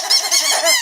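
A loud, high, wavering squeak sounds twice in quick succession, a short comedic double squeaky sound effect heard alone, up close.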